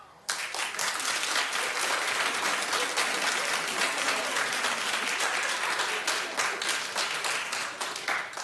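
A television studio audience bursts into sustained applause, steady and dense throughout, with many hands clapping at once.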